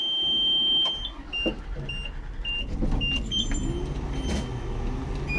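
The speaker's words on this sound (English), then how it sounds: "I'll now be turning on my bus." A school bus starting up: a steady warning buzz and a string of short beeps give way to the engine cranking and catching, then a low idle rumble, close and fairly loud.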